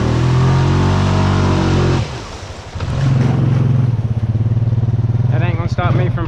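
Motorbike engine revving hard while riding through shallow, muddy water during water wheelies, a loud steady drone that drops off briefly and then roars back, with splashing and a voice over the end.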